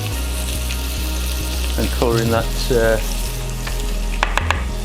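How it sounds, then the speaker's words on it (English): Bacon-wrapped chicken stuffed with cream cheese sizzles and fries steadily in a pan, a continuous close crackle running throughout, with a few brief clinks and a voice talking over it. "straight into the pan, and you can hear it sizzling away there"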